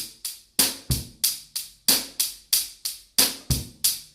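Steady eighth-note cymbal hits drive a close, solo rock groove, punctuated by low bass drum kicks every few beats.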